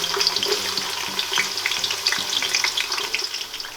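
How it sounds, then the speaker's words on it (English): Onions fry in hot oil in a pot on medium heat for Nigerian jollof rice, giving a steady, close hiss and crackle with faint stirring scrapes throughout. "So the next stage is to add the onions in the oil."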